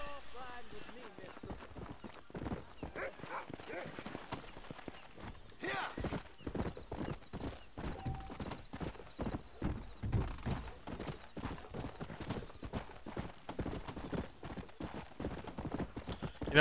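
Horse hooves clip-clop steadily at a walking pace in the Red Dead Redemption 2 video game, a regular rhythm of soft thuds that continues throughout, with a brief whinny near the start.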